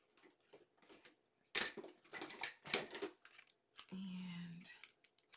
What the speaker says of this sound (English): corner rounder.